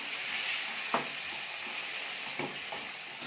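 Tomatoes and onions sautéing with a little rock salt in a pan, giving a steady broadband sizzle with a couple of soft stirring scrapes.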